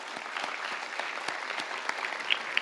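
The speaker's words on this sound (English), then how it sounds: "So let's just give all of our award honorees a final applause." Audience applause for award honorees at a youth health awards ceremony, a steady wash of many hands clapping at moderate distance with a few sharper individual claps, no voices over it.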